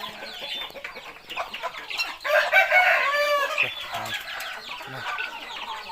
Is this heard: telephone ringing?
no